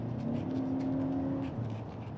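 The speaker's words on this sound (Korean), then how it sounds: "패들 시프트 이용해서 이렇게 수동으로 변속을 해봐도 꽤 재밌는 주행이 가능하고요" A Mercedes-Benz GLB250 with an eight-speed automatic runs at moderate volume as its engine holds a steady tone, then drops pitch briefly with a manual paddle-shifted gear change, no voices over it.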